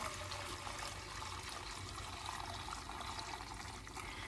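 Hot melted butter (ghee) from four pounds of butter pours steadily into a pot, a continuous close, fairly loud liquid rush and trickle with no talking.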